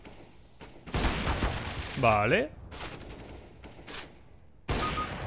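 Bursts of rapid gunfire in the video game CS:GO crackle in quick volleys, with a short spoken word in between.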